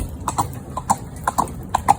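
Horse hooves clip-clop in a steady, even rhythm on a hard surface, close by, with quick paired beats.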